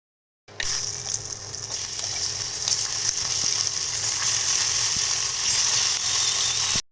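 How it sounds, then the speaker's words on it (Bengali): Crab legs go into hot oil and burst into a loud, close, continuous sizzle that holds steady for several seconds before cutting off abruptly, with no talking. "তারপরে কাঁকড়ার যে পাগুলো ছিল সেইগুলোকে ভেজে নেব"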